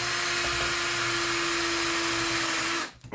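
A power drill runs steadily as it bores into a motorcycle saddlebag, a loud, sustained whine with a constant hum that lasts nearly three seconds before cutting off abruptly.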